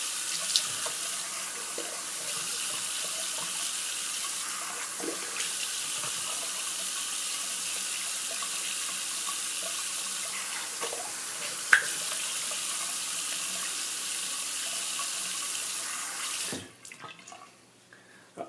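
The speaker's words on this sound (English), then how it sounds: "So I'm just going to rinse my face off here." A bathroom tap runs steadily in a close, even rush of water for a face rinse after shaving, then cuts off near the end, leaving quiet.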